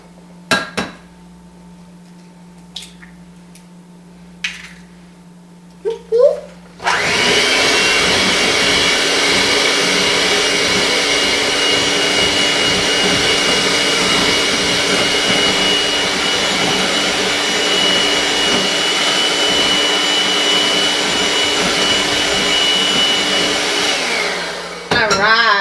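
An electric mixer beats cake batter with eggs for a pineapple upside-down cake, switching on after a few faint clinks and running as a loud, steady whir for about eighteen seconds before stopping.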